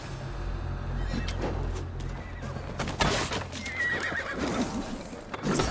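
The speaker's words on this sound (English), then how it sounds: "So they attack on horses now." Horses in Assassin's Creed Valhalla neigh and whinny over a quick clip-clop of galloping hooves, with several loud calls rising above the trampling and a brief crash near the middle.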